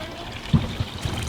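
Pumped water trickles and dribbles into the sump of a DIY tub fish pond, a close, continuous flow with a few soft splashing pulses, and no talk.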